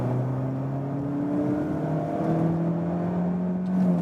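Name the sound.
car engine accelerating in second gear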